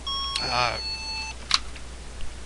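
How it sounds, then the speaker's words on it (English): An electronic phone alarm gives a couple of quick, thin beeps, followed by a soft tonal chirp, under a quiet room with a voice nearby. "My alarm went off."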